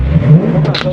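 A Ford Fairmont race car engine on a raceway track revs briefly, loud and close, a short throaty surge.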